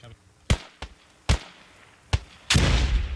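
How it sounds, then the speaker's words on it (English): Grenade blast in a Squad match between FFO and SquadOps: a broad, roaring explosion bursts out near the end and keeps booming, following several sharp, separate battlefield gunshots. "Fantastic nade from Dr. Kamikaze."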